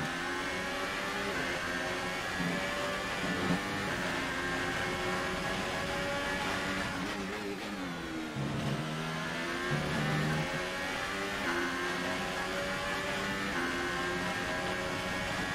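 Ford GT race car engine in the iRacing sim, a steady sustained drone with layered harmonics that dip and recover around a gear change, running continuously with no talk.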